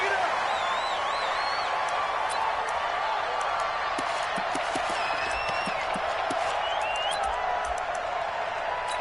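Stadium crowd before a Miami Dolphins vs Indianapolis Colts football game: a steady, dense roar of cheering with scattered whistles and whoops throughout, loud and continuous.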